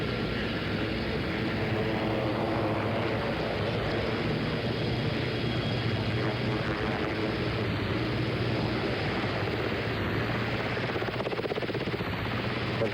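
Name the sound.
presidential helicopter flying over White House South Lawn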